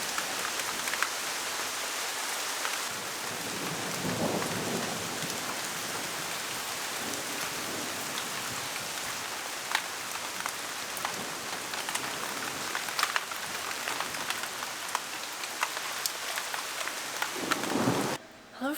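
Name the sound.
heavy rain with thunder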